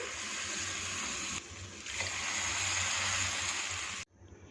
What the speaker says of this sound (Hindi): इसके साथ ही इसमें 500 ml 2 बड़े गिलास पानी शामिल कर देंगे।